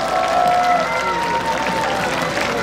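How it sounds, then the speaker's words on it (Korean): A crowd at a Korean music stage show claps and cheers warmly for a young singer, a loud continuous wash of applause with voices mixed in and a sustained vocal tone above it. "네, 다시 한 번 더 뜨거운 박수 부탁드리겠습니다"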